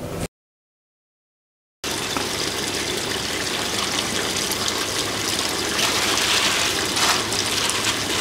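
Water flows steadily into an aquaponics biofilter test tank, a constant close gush and trickle that starts abruptly after a brief silence and carries on alone.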